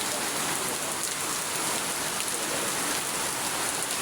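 Heavy rain pours without pause, a dense close hiss of drops drumming on surfaces that holds steady and loud throughout, with no voices.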